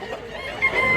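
Bullstag gamecock clucking up close, a short burst of dense, raspy fowl vocalizing over farmyard background.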